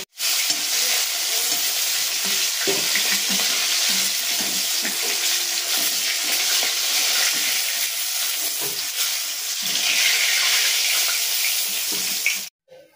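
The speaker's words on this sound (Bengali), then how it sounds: "তো এবার পরের মাছগুলো আমি ঠিক একইভাবে ভেজে নেব।" Fish frying in a hot pan and being stirred, with constant loud sizzling and scraping that runs almost unbroken before cutting off near the end.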